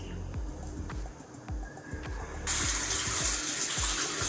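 A running tap gushes steadily while face peeling product is rinsed off. The water swells louder partway through, with soft low thumps underneath.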